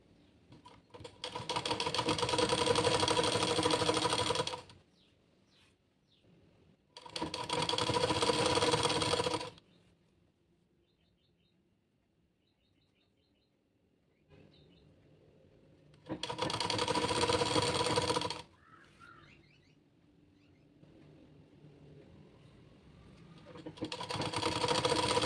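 A sewing machine stitches the folded hem of a blouse in four separate steady runs, each several seconds long. The bursts are loud and close, and short pauses with faint handling noises fall between them.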